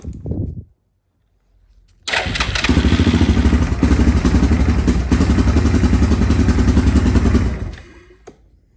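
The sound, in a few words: Yamaha Grizzly 660 ATV engine running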